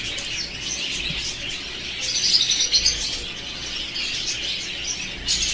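Lovebirds and golden finches in a flying cage at a bird farm chirp continuously, a busy chorus of small birds close by with some wing flutters.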